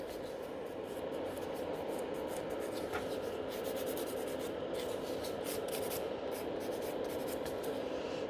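Gel nail infill being blended with a file or buffer, a continuous close rubbing and scratching against the nail surface with rapid repeated strokes, steady throughout.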